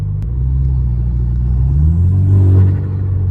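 A car engine with a turbo rumbles and revs up with a fluttering, whooshing turbo sound, loud and close, with no talking.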